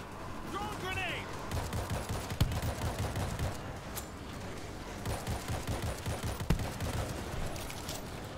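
Rapid automatic gunfire mowing down zombie swarms in the World War Z video game, continuous crackling bursts with a few sharper shots and game noise, at moderate level.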